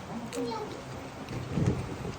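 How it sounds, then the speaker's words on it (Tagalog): Rain falls steadily during a trip through provincial Davao and Surigao del Sur, a soft continuous hiss with faint rumbles, while people chat nearby. "umuulan ng ganito, oh"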